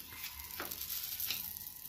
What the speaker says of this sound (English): we're gonna put some butter in the pot right now.